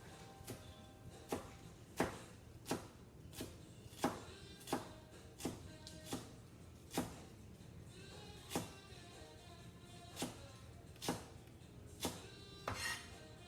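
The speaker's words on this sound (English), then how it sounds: "I'm rolling my cilantro and I'm just going to start chopping." A kitchen knife chopping rolled cilantro on a cutting board, sharp evenly spaced thuds repeating roughly every half to one second, close and crisp, with a faint steady background hum and no talking.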